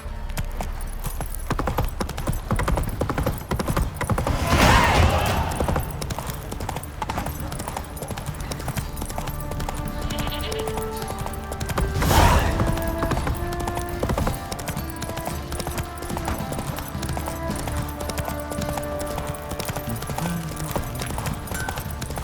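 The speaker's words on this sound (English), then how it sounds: "Run, Roach." Horse galloping in The Witcher 3: Wild Hunt, steady rapid clip-clop of hooves running continuously, close and loud, with a couple of sharper thumps along the way.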